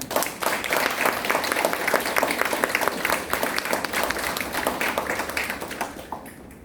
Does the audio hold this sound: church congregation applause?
yes